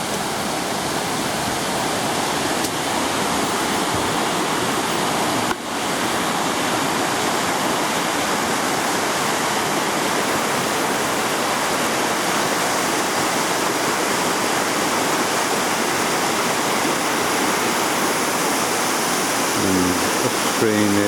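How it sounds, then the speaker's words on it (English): River water pours over a weir on the Dorset Stour at a fishery, making a continuous loud rushing roar that stays steady throughout with no voices. "So this is the weir,"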